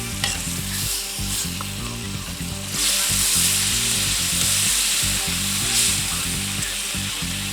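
Carne asada steak sizzles loudly in a skillet just after being flipped, a steady close crackle with brief bursts of stirring or scraping.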